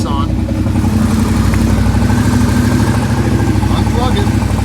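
A Kawasaki Brute Force 750 ATV engine runs at close range, a steady rough mechanical drone with throttle blips rising over the idle, and a voice speaks over it.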